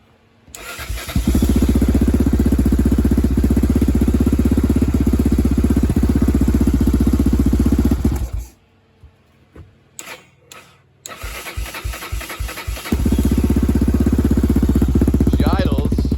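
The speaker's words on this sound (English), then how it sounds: "She idles, but she's dying out on throttle application for some reason." A 2001 Yamaha Raptor 660R ATV engine under restoration idles with a steady, loud single-cylinder thrum, dies out briefly with a few sputters, then catches and idles again.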